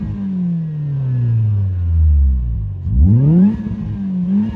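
Fiat Punto petrol engine fitted with a supercharger and a 2.5-inch exhaust, revving loud and close: a long falling rev, then a sharp climb and a short held rise, with no talk.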